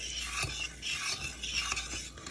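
Steady scraping and rubbing of a spoon stirring sugar syrup in a pot, continuous with soft rhythmic swishes, close and moderately loud, no voices.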